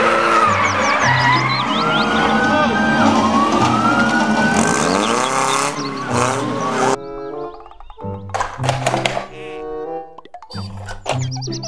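A toy police patrol car gives off a loud electronic siren with wailing, sweeping tones, followed by choppy bursts of toy sound effects and beeps that stop and start.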